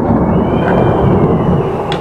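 A loud, steady rumble of thunder rolls through a thunderstorm, continuous and heavy with no break, filling the whole stretch with no voices.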